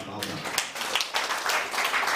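An audience at a talk on human trafficking prevention claps for a speaker, with dense, steady applause throughout.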